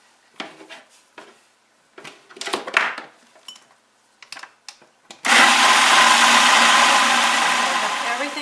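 A countertop blender purees homemade tomato soup, starting abruptly with a loud, dense whirring roar that holds steady before easing slightly, preceded by scattered clatters and knocks of kitchen handling and a little talk.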